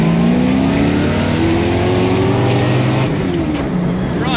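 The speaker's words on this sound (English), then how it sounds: "Bro, I think it'll just keep revving." A Datsun 240Z's carbureted engine revs hard and steadily climbs in pitch for several seconds, loud and close, with a brief dip and rise near the end and no limiter cutting in.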